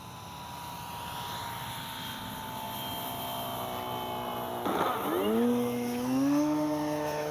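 An Avios Extra NG 1600 RC model airplane flies a touch-and-go in strong wind. Its electric motor hums steadily, then swells and rises in pitch as the throttle opens near the end. No voices are heard.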